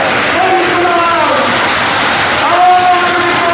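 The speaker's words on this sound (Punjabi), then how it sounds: "ਆ ਦੇਖੋ ਜੀ ਬਹੁਤ ਜ਼ਿਆਦਾ ਮੀਂਹ ਪੈ ਰਿਹਾ ਹੈ" Heavy rain pours down at an outdoor political rally in Punjab, a loud continuous broadband hiss while someone speaks over it.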